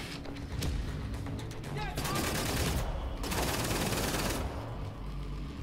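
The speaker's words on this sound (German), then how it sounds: "Irgendwer hat da schon wieder auf uns geschossen." Gunfire from Wolfenstein: The New Order rattles in dense, sustained bursts with heavy low-end thuds, while someone talks over the shooting.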